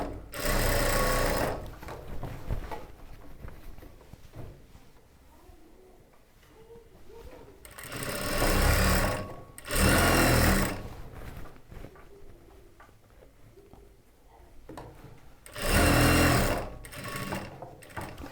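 Sewing machine stitching a churidar top, running in three loud bursts of rapid whirring separated by quieter stretches of low handling noise.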